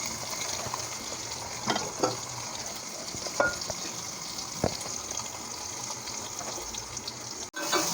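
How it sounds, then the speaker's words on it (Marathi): Garlic, tomato and turmeric fry in a pan, giving a continuous close sizzle with occasional stirring knocks and a sharp clatter near the end. No one speaks. "तर ह्या ठिकाणी लसूण छान फ्राय झाला आहे"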